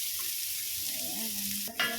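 Garlic and onion fry together in a small amount of oil while cooking tinolang manok, a steady close hiss and crackle that continues throughout, with a brief stir and clink of a utensil near the end.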